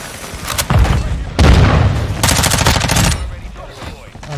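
Bursts of MP5 submachine gun fire in Modern Warfare 2 multiplayer, loud and close, with several rapid volleys and booming impacts mixed with game effects and faint talk.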